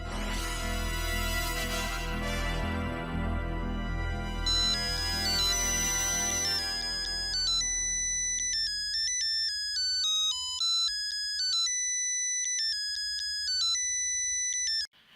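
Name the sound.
phone ringing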